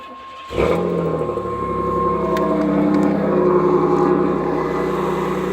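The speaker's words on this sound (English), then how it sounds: "I'm gonna go ahead and start this vehicle up real quick" A 1991 Pontiac Firebird with a 3.1 V6 cranks briefly and catches, then settles into a loud, steady idle close by with a slight rise in revs, and no one speaks over it.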